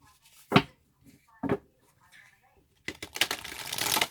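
Two short riffling bursts a second apart, then a longer, louder flurry of oracle cards being shuffled close by, with no talking.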